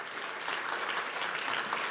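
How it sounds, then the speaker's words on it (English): Audience at a small business summit giving a round of applause, even, continuous clapping from a sizeable crowd with no break. "Let's give him a round of applause."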